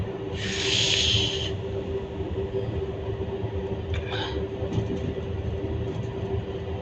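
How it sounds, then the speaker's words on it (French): Heard from the cab of a Z2N regional train, a brief rushing hiss of air blast from trains passing in opposite directions rises early, then fades into a steady, loud rail rumble and hum. "il y a un appel d'air entre les TGV et les TER, enfin entre les trains qui circulent en deux sens opposés"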